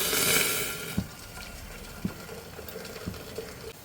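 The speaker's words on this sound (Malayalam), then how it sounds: "നമുക്കിതിലേക്ക് ചൂടുള്ള വെള്ളം ഒഴിച്ച് കൊടുക്കാം." Hot water pours into a cooking pot for boiling tapioca, a brief splashing gush at the start followed by a few light metallic knocks and clinks in a quiet kitchen.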